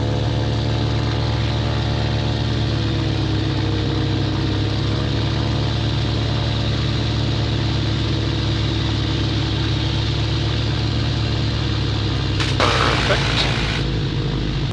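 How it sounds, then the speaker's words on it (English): A Twin Commander aircraft engine runs steadily at high power during a pre-flight run-up with a loud, even drone, and a brief burst of hissing noise comes near the end. "with the engine started, it was time to do a run-up and complete the pre-flight checks"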